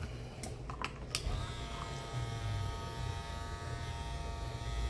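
An Andis Master cordless hair clipper runs with a steady electric buzz throughout, close and continuous, with a few faint clicks near the start.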